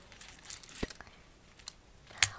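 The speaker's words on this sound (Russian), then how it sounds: "И еще два брелочка, которые хотела бы вам показать, они висят на моих ключах." Keys with small keychains jangle and clink in a few brief, light bursts, then a sharper rattle near the end, with quiet stretches between.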